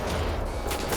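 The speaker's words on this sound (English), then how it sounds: "Shotguns are really good" Dense burst of shotgun fire in a video game, loud overlapping blasts filling the whole second with no pause.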